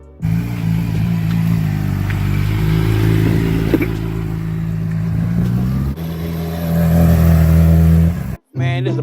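A motorcycle engine runs at a steady, loud idle nearby, a droning hum with brief dips and a sharp cutoff near the end.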